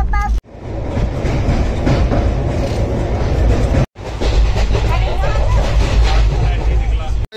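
Inside a train travelling at night, a loud steady roar of wheels on rails with rumbling clatter fills the cabin, broken by two brief dropouts, with faint passenger babble mixed into the noise.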